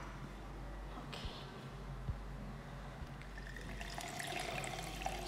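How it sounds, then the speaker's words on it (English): Tap water runs steadily into a bath being filled for a pet's bath time, a continuous broadband rush that grows a little brighter and busier toward the end, with no talk over it. "So first, I kind of just let the water fill up."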